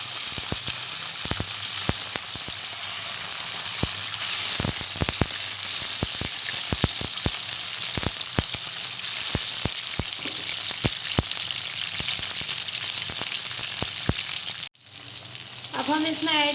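Chopped tomatoes and green chilies frying in hot garlic oil, a loud steady sizzle with occasional stirring clicks, then a sharp burst of crackling as more goes into the pan near the end.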